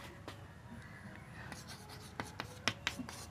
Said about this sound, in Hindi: चलिए यहां हेडिंग लिख देते हैं